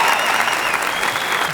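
A studio audience at an Armenian television entertainment show claps hard and continuously, a loud, close, dense wash of applause that holds steady from start to finish.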